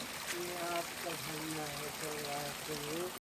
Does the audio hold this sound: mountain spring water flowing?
yes